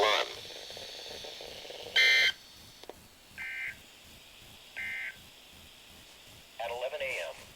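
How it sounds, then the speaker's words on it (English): NOAA National Weather Service weather radio warning alarm test, with a burst of harsh electronic data tones, then several short, loud, evenly spaced buzzing beeps over a faint hiss and crackle of radio static. "This ends the test of the National Weather Service weather radio warning alarm."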